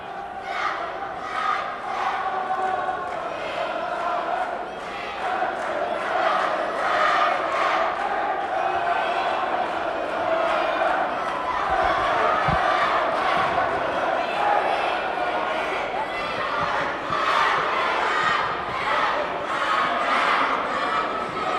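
A high school boys basketball crowd cheers and chants during a timeout, with loud rhythmic group shouting and clapping from cheerleaders and fans filling the gym and echoing steadily throughout.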